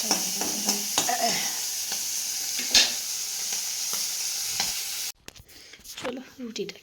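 Prawns fry in a pan with a steady, close sizzle. Scattered clinks and scrapes of stirring sit on top of the sizzle. A sudden cut leaves a quieter stretch of softer frying and clatter.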